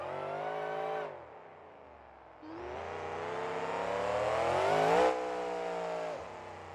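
Loud monster truck engines roar and rev, dropping off briefly then climbing again in pitch as a truck accelerates nearby during a freestyle run in BeamNG.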